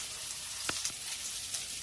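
Beef steak frying in a pan makes a faint, even sizzle, broken by a couple of brief ticks and pops.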